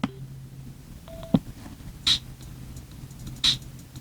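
Short electronic beeps and tones from a Sena 50S helmet intercom when its jog dial is pressed, as a few brief, quiet blips and two clearer high chirps spaced apart, with no talking.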